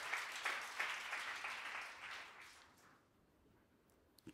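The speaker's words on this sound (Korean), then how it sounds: "박수 좀 쳐주세요" A church congregation applauds during a Sunday worship sermon, a brief burst of clapping that fades out after about three seconds, leaving quiet room tone and a couple of faint knocks.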